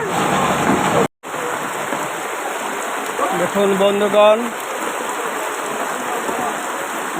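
Steady rain hiss fills an open fish market throughout, with someone speaking briefly over it and a short dropout near the start.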